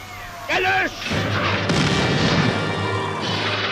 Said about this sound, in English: The roar of gunfire replaces the talk of statesmen